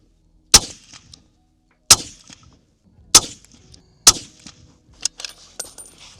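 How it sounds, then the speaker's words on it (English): Five sharp rifle shots from a Sig Cross Trax .308 at a shooting range, spaced about a second apart, each a loud close crack with a short ringing tail, followed by faint clinks. "just shot that group with the SIG"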